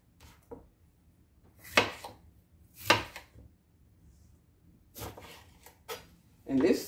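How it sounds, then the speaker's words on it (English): A knife roughly chops vegetables for sofrito on a board, a few separated knocks spread out with pauses between them. "So, rough chop that."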